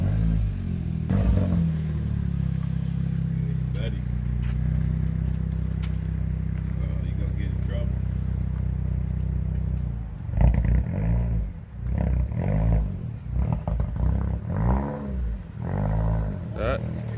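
A 2017 Hyundai Elantra Sport with the muffler deleted idles as a steady low exhaust drone, then settles into rhythmic deep revving pulses in the second half; people talk over it at times.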